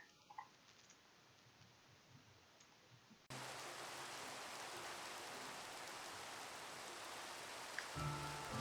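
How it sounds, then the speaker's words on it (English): Rain in the video game Minecraft begins after a quiet stretch, cutting in abruptly as a steady, moderate hiss that continues to the end with a faint click near the close. "It is finally raining."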